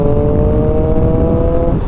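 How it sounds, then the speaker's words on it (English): A Triumph Street Triple motorcycle's triple-cylinder engine revs loudly and steadily up close, with a sustained rising drone and no talk over it. "This triple engine, it's yeah, I love it."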